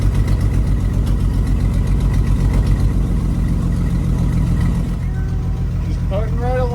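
A 1952 Dodge Wayfarer's engine chugs along at low speed with a steady, low rumble throughout, while a voice speaks over it near the end.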